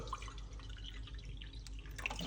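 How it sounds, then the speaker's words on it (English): Bottled water trickles and splashes as it is poured into a container for a homemade weight-loss tea, a brief, quiet liquid pour with light drips. "Now, we're just gonna put some water."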